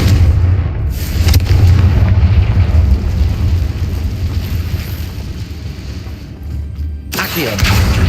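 A Confringo blasting spell from the Hogwarts Legacy video game goes off as loud, booming explosive rumbles that roll on for several seconds, then cut off sharply.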